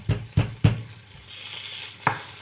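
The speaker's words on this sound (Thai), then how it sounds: "เอามาทอดเพื่อให้น้ำมันระเหยออกไปก่อนนะครับ" Pork stir-fried in a pan for a Thai chili and oyster-sauce pork dish, with three quick, close scraping strokes of the utensil and a later clack over a soft background sizzle, no talking.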